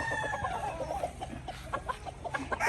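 Boston Roundhead gamefowl stags at a gamefarm, with a rooster crow opening, followed by a run of short, close clucks and calls from the birds.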